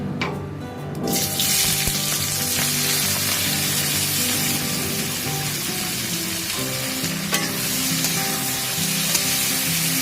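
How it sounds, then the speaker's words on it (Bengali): Onions hit hot oil for a light Bengali-style mutton curry, with a loud, dense, continuous sizzle that surges near the start and crackles steadily throughout, close up with no talking. "তেলটা গরম হয়ে গেছে, এবার আমি এর মধ্যে পেঁয়াজটা ছাড়ছি।"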